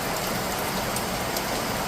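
Heavy monsoon rain pours in a dense, unbroken roar that stays even and loud throughout.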